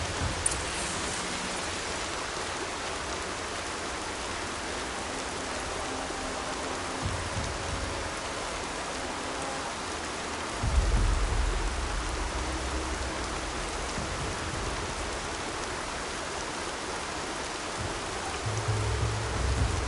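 Steady rain falls across an outdoor scene in the Horizon video game, a dense even hiss with low rumbling shifts underneath, continuous and fairly close throughout, with no voices.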